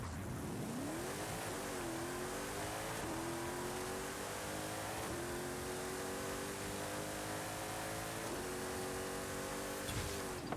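A tuned car in Forza Horizon 5 roars through a half-mile drag run, its engine note climbing steadily through each gear with short dips at the shifts, loud and continuous from start to finish.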